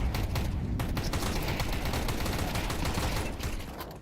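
Rapid overlapping gunfire from Tec-9 pistols and a Desert Eagle in a tactical shooter video game, a dense continuous burst of shots that stays loud and tapers slightly at the end.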